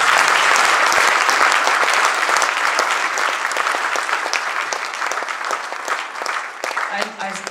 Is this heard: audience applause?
yes